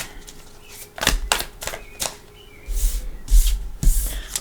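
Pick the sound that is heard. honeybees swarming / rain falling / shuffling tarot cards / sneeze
shuffling tarot cards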